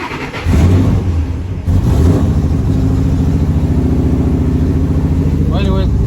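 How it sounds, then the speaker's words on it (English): A car with a 3V engine idles roughly nearby, producing a loud, steady droning rumble with an uneven pulse and a brief higher chirp near the end. "The idle on it is rough, and sometimes it drops down to 500 RPMs."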